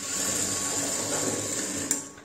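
A sewing machine stitches blouse lining onto the main cloth in a fast, steady mechanical whir that runs close and unbroken, with a brief click near the end.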